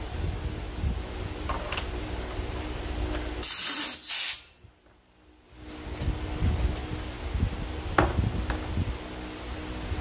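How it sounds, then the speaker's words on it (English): Compressed air hisses loudly into a pressure brake bleeder, a bright steady rush that runs about a second before cutting off abruptly and leaving near silence, with a low background hum around it. "a minimum of 40 psi, and let's hope this thing doesn't blow up in my face. Hook the air to it."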